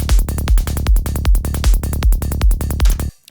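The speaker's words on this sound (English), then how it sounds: "So with the kick and bass, we have this." A loud psytrance kick drum thumps in a steady four-on-the-floor pulse, with a rolling off-beat bassline filling each gap, then cuts off abruptly at the end.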